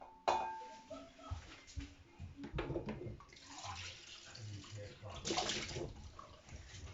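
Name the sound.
pouring beaten egg into a bowl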